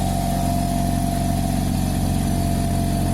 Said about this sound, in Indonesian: sekarang kompresor ini sudah menyala, dan penyalaannya ini atau suara mesinnya ini cukup halus ya